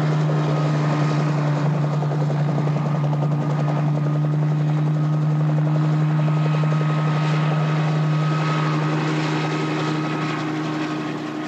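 Helicopter flying overhead on aerial reconnaissance over a manatee coastal region, a steady loud rotor and engine drone with a strong low hum held constant throughout, no voices.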